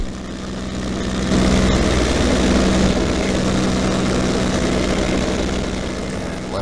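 A P-51C Mustang propeller fighter climbs in flight, its piston engine roaring in a loud, steady drone that swells and holds, heard close from inside the cockpit.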